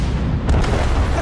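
A torpedo detonates in the naval combat game Warships, a loud, deep boom with a sharp burst partway through, dense low rumble filling the whole moment.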